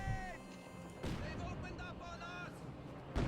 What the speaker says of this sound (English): Battalion medium mortar.